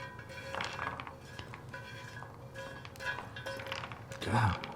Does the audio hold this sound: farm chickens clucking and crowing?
no